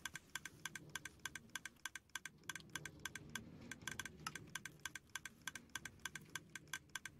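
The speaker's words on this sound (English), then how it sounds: "my typing was so slow" Computer keyboard typing, quiet and close, a rapid irregular run of key clicks with brief pauses between bursts.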